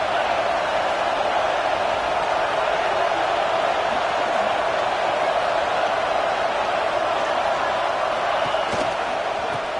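A large stadium crowd at a football game roars in a constant, loud wash of cheering and noise that holds steady with no breaks.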